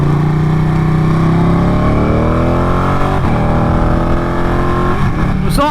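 A Ducati Panigale motorcycle engine roars loudly and close, its pitch climbing steadily as it revs up, then shifting and dropping near the end with some brief extra noise.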